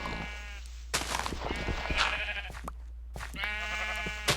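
Minecraft sheep bleat over and over, loud and near, with their harmonic calls overlapping and following one another amid farm animals penned together, with no talking.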